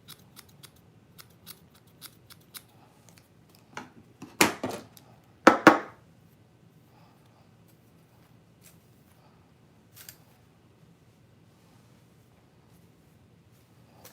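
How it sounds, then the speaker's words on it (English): Sharp scissor snips trimming a gray hair wig, a quick run of faint cuts followed by a few louder, close crunchy snips, then quiet with one more isolated cut. "now I'm gonna take my scissors and just fix this side here"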